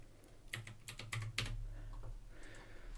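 Keys clatter on a computer keyboard in a short burst of close, crisp taps while someone types a screen resolution into a game-making program, followed by a brief quieter pause.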